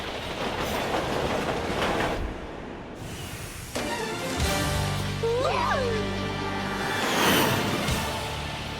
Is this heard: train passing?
yes